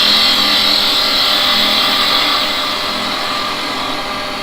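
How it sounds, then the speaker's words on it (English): A wood lathe spins steadily as a spindle gouge shapes a baiting needle for sea fishing, a loud continuous whirring hum with cutting noise that eases slightly toward the end. "I'm going to use a spindle gouge to do this bit"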